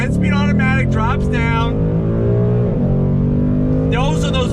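A Ford Mustang GT PP1 with the Coyote V8 and 10-speed automatic pulls hard on throttle: a loud, close engine note climbs, drops sharply at a quick gearshift, then builds again.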